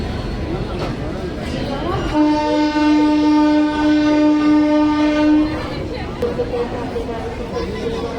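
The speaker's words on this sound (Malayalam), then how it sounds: "Sabarmati express special ട്രെയിനായത്." A Sabarmati Express special train, on the Prayagraj–Banaras route, rumbles close by while its horn blares one long, steady blast of about three seconds, with voices talking in the background.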